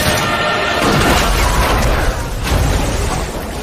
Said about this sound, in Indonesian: seorang tentara memutuskan untuk mengorbankan dirinya sendiri, dengan cara melompat membawa bahan peledak.